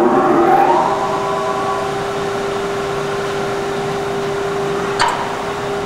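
A 24 in x 118 in SMTW plain cylindrical grinder from 1990 runs with a steady, close mechanical hum, a constant tone laid over broad motor noise and a brief click near the end.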